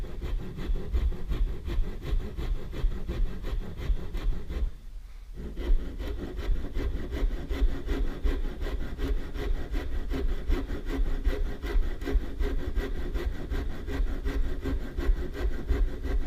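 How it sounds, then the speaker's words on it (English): A hand saw cuts a dovetail in clamped wood with steady, continuous rasping back-and-forth strokes, close and loud, with a brief pause partway through before sawing resumes. "We're going to do the same thing on the other side."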